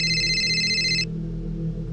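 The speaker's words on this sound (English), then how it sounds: "Okay, phone is ringing." Phone ringing in a horror video game, a bright electronic ring tone sounding for about a second over a low droning ambient hum, then stopping abruptly while the drone continues.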